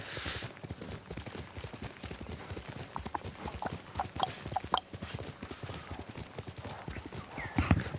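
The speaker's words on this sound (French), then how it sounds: "On va avancer avec le cheval" Steady rhythmic clip-clop of horse hooves trotting in the samurai video game Ghost of Tsushima on PS5, with an occasional snort or whinny and faint game ambience, no talking.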